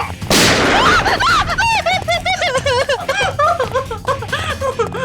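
A single loud gunshot bursts out near the start, followed by a dense chorus of birds calling and chirping in the background.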